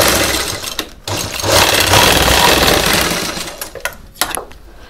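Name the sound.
sewing machine stitching a saree-fabric washing machine cover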